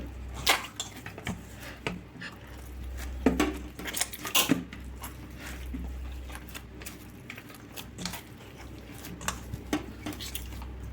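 Chapati dough being mixed with a little oil in a bowl by hand, giving soft irregular squelches and clinks of a utensil against the bowl, fairly quiet and close with no talk.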